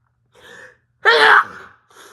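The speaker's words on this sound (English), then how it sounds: "I can guarantee I'll sneeze a billion times in this." A cold-pressed sneezing bout: a soft breathy intake, then one loud, sharp close sneeze, followed by a quieter exhale and a short breath, heard alone with no talking.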